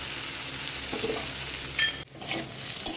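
Potatoes fry in a pan for a fish-head muri ghonto, a steady close sizzle with occasional stirring scrapes and light utensil clinks, no talking.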